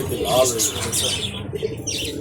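Pigeons, including racer pigeons, coo softly in a bird shop in Nagarkanda, with someone talking over the close, low murmuring calls.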